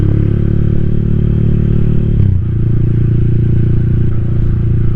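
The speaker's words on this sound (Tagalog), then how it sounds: "Ito yung motor, gumagana naman." A motorcycle engine idles steadily and loudly up close, a constant low rumble with rattling mechanical clatter and a slight dip in pitch partway through.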